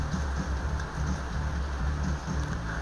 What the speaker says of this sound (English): And it's raining outside.